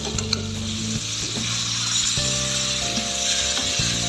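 Steady, bright sizzling of meat frying in a hot pan, continuous throughout, with music playing along underneath.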